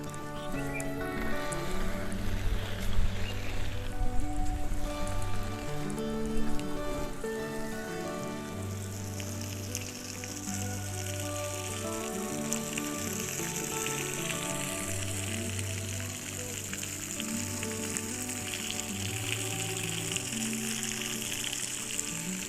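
Water from a hose pipe pours steadily onto garden plants, a continuous close hissing spatter like rain, running under background music throughout.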